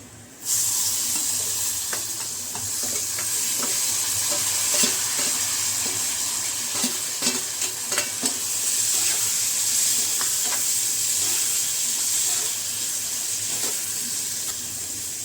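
Fresh Konkani-style cashews sauté in masala with a constant hissing sizzle, broken by repeated scraping stirs of a spoon in the pan, close and steady for about fifteen seconds.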